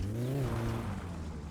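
A car in the My Summer Car video game drives off, its engine revving up then settling into a steady low hum, close and loud with no talk.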